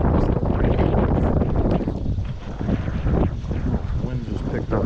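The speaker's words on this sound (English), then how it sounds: "Wind just picked up here." Gusty wind buffets the microphone beside the water during carp fishing in Maryland, a loud rumbling roar that rises and eases over a few seconds, with a voice speaking at points.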